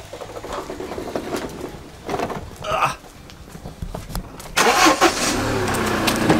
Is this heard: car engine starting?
yes